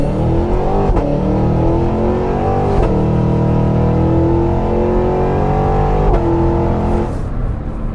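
A 2023 Cadillac Escalade V, a 6,200-pound SUV, launching hard from a standstill, its engine roaring loud and close as it climbs through rising revs with brief dips at gear changes before easing off at the end.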